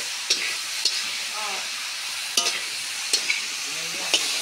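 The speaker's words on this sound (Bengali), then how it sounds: "এখন দেওয়া হচ্ছে পেঁপে আর আলু মশলার সঙ্গে কিছুক্ষণ ভাজা হবে।" Papaya and potato pieces frying with spices in a pan, a continuous close sizzle punctuated by regular spatula scrapes and taps against the pan.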